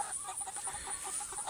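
Dominique rooster clucking, a few soft, close clucks over quiet background noise, alone with no talking.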